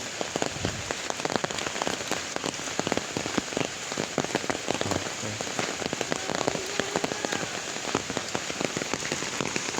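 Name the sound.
rain falling on an umbrella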